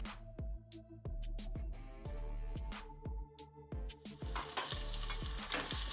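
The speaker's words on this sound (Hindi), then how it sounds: "अब हम इसमें डाल देंगे हमारे बारीक कटे हुए प्याज।" Finely chopped onions sauté in a pressure cooker for chole while a spoon knocks and stirs in a steady rhythm, and a soft sizzle builds beneath the scraping.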